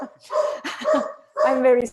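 A pet dog barks and yelps in short bursts close to the microphone, tangled with a voice speaking over it.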